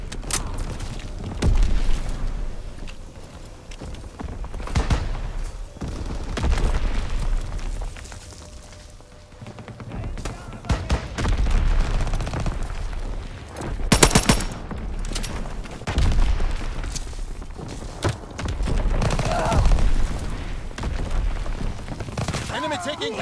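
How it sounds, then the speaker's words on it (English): Dense gunfire and explosions from a World War II battle in Call of Duty WWII hardcore team deathmatch, with sustained machine-gun bursts and heavy booms rolling through the whole stretch, loud and close, interspersed with shouted voices. "Tactical advantage, keep firing!"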